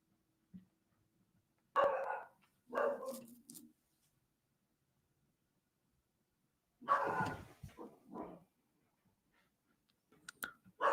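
A 7-month-old puppy barks in two short bursts a few seconds apart, fairly close and moderately loud, with quiet gaps between and a brief sound near the end.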